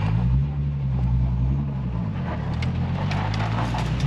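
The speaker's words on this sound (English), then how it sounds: "I'm gonna have a drive around now with the JZX90" A Toyota JZX90 driving around at a drift venue, its engine a continuous low rumble with a steady droning hum, fairly close and even in level with no voices.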